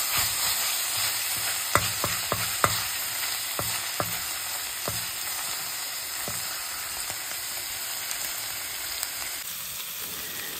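Beef frying in its own rendered fat gives a steady close sizzle and hiss, broken by scattered sharp pops and spatters throughout, with no voices.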